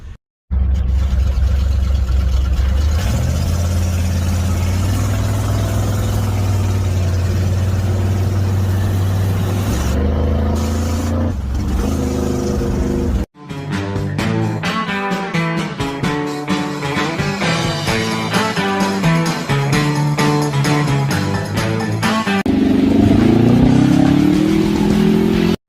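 A 1986 square body truck's engine runs steadily and loud, a low idle that shifts pitch a few times, cuts out briefly, then returns rougher and busier before climbing as it revs near the end.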